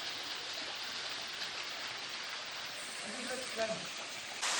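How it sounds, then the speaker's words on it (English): A waterfall stream on a trail flows with a steady, faint hissing wash of water, and voices murmur softly in the background. "we in the Punjise waterfall there"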